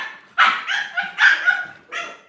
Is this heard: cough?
no